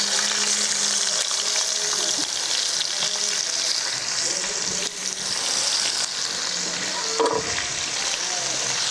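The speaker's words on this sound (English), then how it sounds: "our oil should be just about ready, we're gonna bombard this with some onions" Onions frying in hot oil in a home kitchen, a steady, close sizzle and crackle that runs throughout, with faint stirring and clinking of a utensil in the pan and no talk.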